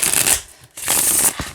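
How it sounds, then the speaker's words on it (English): A thick, high-gloss, firm tarot card deck is shuffled by hand in two loud, close riffling bursts with a brief quiet gap between them. "Let me show you how it shuffles."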